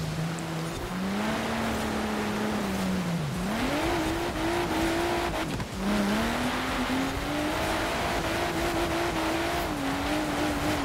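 BMW M2 drifting on snow in Forza Horizon 4, a steady engine drone that rises and dips in pitch as the car slides and revs, continuous and close throughout.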